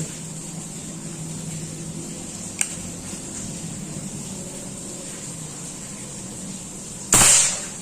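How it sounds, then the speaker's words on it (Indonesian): A Predator Mini Bullpup air rifle, 40 cm dural build at 2700 psi, fires one sharp, loud shot near the end, after a faint tap earlier over a steady hum of background noise. "kita mulai tes tembakan pertama"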